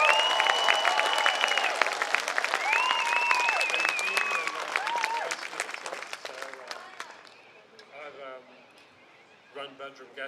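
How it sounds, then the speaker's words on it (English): An audience at a community unity event in Gympie applauds Dr. Andrew McIntyre, a broad clapping wash under amplified speech and tones that thins and fades out toward the end, leaving only scattered sounds. "we deserve an extra special big round of applause for Dr. Andrew McIntyre"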